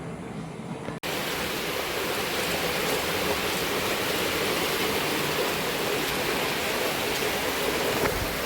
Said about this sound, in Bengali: এই বৃষ্টির সাউন্ডটা শুনে তোমরা বুঝতে পারছো যে কী পরিমাণে আসলে বৃষ্টিটা নামিয়েছে